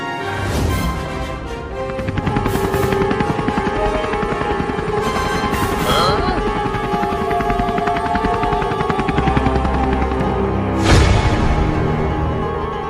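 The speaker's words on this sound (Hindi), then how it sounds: "वो पुलिस के पास हेलीकॉप्टर है, वही लाएंगे" A police helicopter flies nearby, its steady rotor chop and engine whine loud and continuous throughout, swelling slightly near the end, with no talk.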